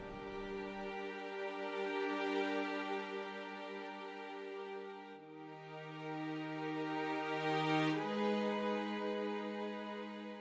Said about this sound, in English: Well, the strings are very simple right now, but that they sound like this.